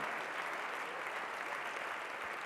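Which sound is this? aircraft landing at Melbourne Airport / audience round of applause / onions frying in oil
audience round of applause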